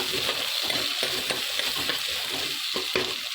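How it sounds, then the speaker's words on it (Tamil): Shallots, green chilies and garlic sizzle steadily in a pan for a ridge gourd thokku, with repeated scraping strokes of a spoon stirring them up close. "சின்ன வெங்காயம் போட்டாச்சு நல்லா கிளறி விட்டுடலாம்"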